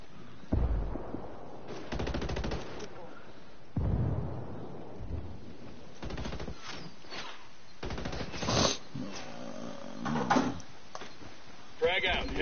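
Video game gunfire rattles in repeated bursts of machine-gun and rifle shots with thumping impacts, loud and close, broken by short pauses, while a voice talks over the action.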